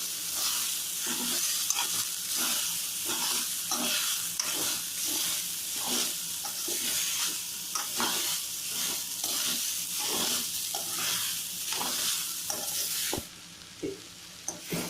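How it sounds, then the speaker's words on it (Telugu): Fried beetroot and meal maker with a pinch of turmeric are stirred in a hot pan, producing continuous sizzling with a regular rhythm of close spatula scrapes that stop near the end. "వేపిన తర్వాత ఒక చిటికెడు పసుపు వేసి బాగా ఇలా కలబెట్టాలండి"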